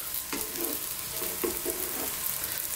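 An omelette fries in a pan as its edges are pushed in, a steady sizzle under a few soft scraping strokes of a spatula, close and even, with no talk.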